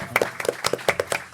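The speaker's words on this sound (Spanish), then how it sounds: "un aplauso" Scattered applause from an audience at a Spanish-language literary event: a short, fairly faint burst of quick, uneven hand claps.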